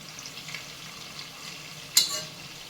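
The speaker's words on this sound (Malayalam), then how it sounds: "ഈ ചെമ്മീൻ്റെ മറുവശം കൂടെ ഒന്ന് ഫ്രൈ ആയി വരട്ടെ." Prawns fry in a pan with a soft, steady sizzle close by, broken once by a sharp scrape or clink of a utensil against the pan.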